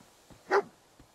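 A single dog bark in Fallout 4, one short sharp burst standing out clearly against a quiet background, with faint thuds before and after.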